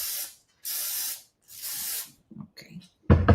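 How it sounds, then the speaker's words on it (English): A spray bottle gives three short, loud hissing bursts at close range, followed by quieter handling noises. "Let's spray it."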